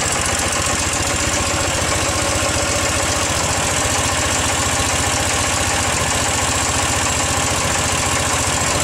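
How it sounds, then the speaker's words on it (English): An old air-cooled Ural motorcycle engine idles steadily after a cold start, a loud, continuous rattly chug with ticks and knocks throughout, close up and with no talking. "These old things, they always sound rattly to me."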